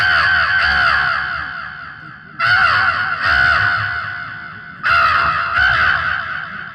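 A performer's voice imitates a crow cawing: three loud, harsh bursts of rapid, repeated caws, close to the microphone with no other sound.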